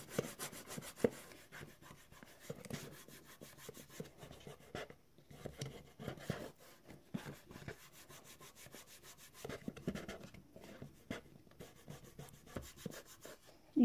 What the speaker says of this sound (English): Press, hold, and rub with the fingers until the glue is settled.